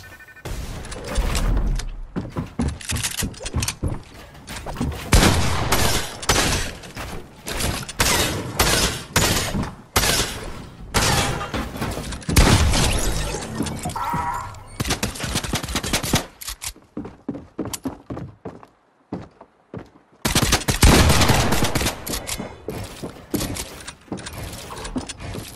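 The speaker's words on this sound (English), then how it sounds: "I'm destroying him with the suppressed pistol" Rapid bursts of suppressed pistol fire in the video game Fortnite, repeated in dense clusters across the whole stretch, loud and close, with a brief lull near the end before more shots.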